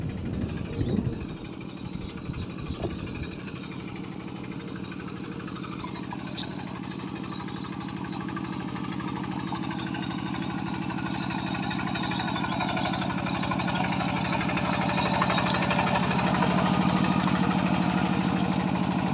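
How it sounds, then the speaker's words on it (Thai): Yanmar farm tractor engine, 13 to 14 years old, running steadily during heavy plowing in a field, a continuous low mechanical drone that grows slightly louder toward the end with no talk. "รถไถยันมาพี่น้อง อยู่ใช้งานตัวนี้ก็คันนี้รถคันนี้ก็ 13-14 ปีได้พี่น้องเอ้ยถือว่าทนทานดีเลย"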